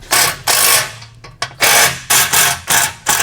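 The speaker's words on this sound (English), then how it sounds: "We'll get a 9/16 socket and a flathead, and we'll tighten these down." A 9/16 socket wrench ratchets trailer fender bolts tight on a Malone MicroSport tent trailer, giving repeated bursts of rapid clicking separated by short pauses, close and loud with no talk.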